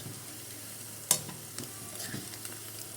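Potato pieces frying in hot oil for aloo 65, a soft continuous sizzle with occasional stirring scrapes and one sharp clink of a utensil against the pan early on.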